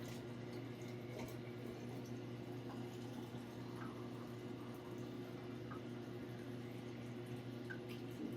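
Blix processing chemical is poured into a film developing tank during E-6 processing, a faint, continuous watery trickle under a low steady hum, with no talk over it.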